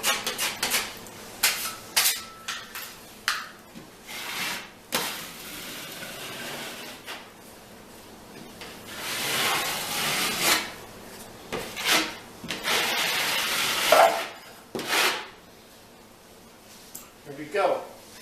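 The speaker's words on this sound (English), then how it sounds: "What we do is get the mud on there," Sheetrock thin set mud being spread with a trowel across a patch on a wall, heard as repeated close scraping and rasping strokes in an uneven rhythm, some louder and longer than others.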